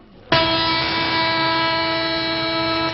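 A train at a station in a film scene sounds a long, loud, steady horn that starts sharply and holds unbroken for nearly three seconds with no talking.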